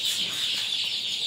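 A chicken in a poultry enclosure clucking faintly in a brief, soft murmur over a steady background hiss.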